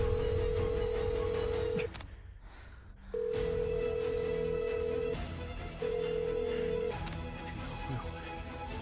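A phone call goes unanswered as the steady ringback tone sounds in long buzzing pulses with pauses between them, over faint background noise.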